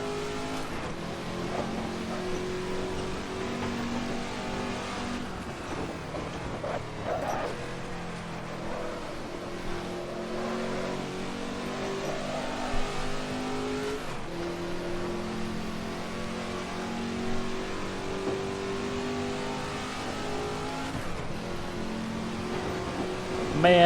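A Ford GT40 engine roars continuously in the Assetto Corsa racing game, its pitch climbing and dropping through gear changes over a long steady run at moderate, even loudness.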